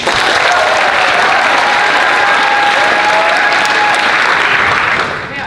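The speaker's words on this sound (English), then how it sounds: "clap them in, folks" Loud, sustained applause from a large audience at a youth performance session, continuous dense clapping for several seconds before tapering slightly at the end.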